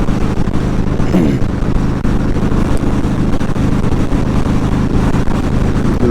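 An aging car engine held at about 3,500 RPM while cruising at 75 mph, a steady low drone with a constant hum under heavy road and wind roar throughout, no talking.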